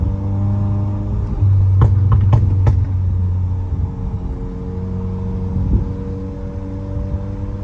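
Volkswagen Golf MK8 fitted with a Milltek downpipe, exhaust idling with a deep steady drone, a few sharp pops or crackles early on, then settling to a low rumble, no talk.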